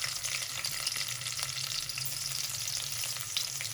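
Chopped garlic added to hot oil in a home kitchen pan while making meethi aloo, giving a continuous close crackling sizzle with soft stirring scrapes and no talking.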